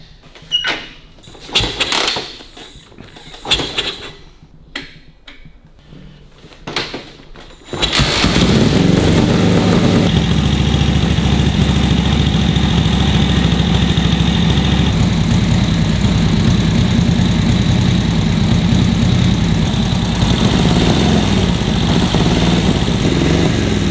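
A Harley-Davidson WLA motorcycle with running issues gives a few uneven knocks and sputters, then its engine catches and runs at a steady, loud, close idle to the end.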